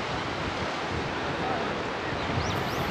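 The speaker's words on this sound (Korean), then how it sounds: "와, 여기 파도 봐." Waves crash and wash continuously on the Jeju Island coast in a dense, loud roar of surf, with wind noise mixed in and a faint bird call near the end.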